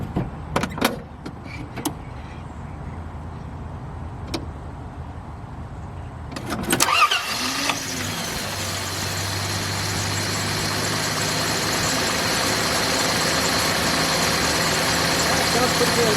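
A classic car engine cranks and catches after a new electric fuel pump install, then settles into a steady, close idle that holds for the rest of the moment.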